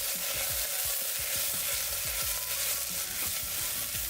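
Rice coated in sriracha and chili garlic sauce fries in a pan with a constant hiss, while a utensil scrapes and stirs it in repeated quick strokes.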